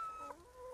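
Chickens at a mobile hen coop give a short burst of clucking and tonal calls, one sharper note standing out midway, fairly faint and alone.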